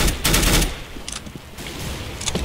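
Gunfire in Counter-Strike: Global Offensive during a competitive match: loud, close bursts of automatic rifle fire, first a long burst, then shorter separated volleys and a final burst, with no talking.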